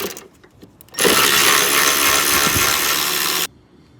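A power tool whirs steadily for about two and a half seconds, backing out 10 mm bolts that hold the plastic engine covers on a Honda 3.5L V6, loud and close, with quieter clicks before and after.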